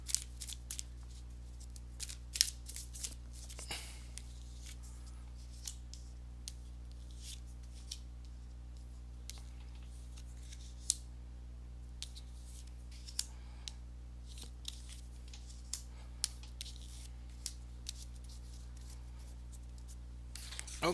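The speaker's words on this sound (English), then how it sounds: "let me go ahead and give these cards a shuffle" A deck of tarot cards being shuffled by hand, giving faint, intermittent soft clicks and riffling snaps spread over about twenty seconds, quiet and close, with no talking.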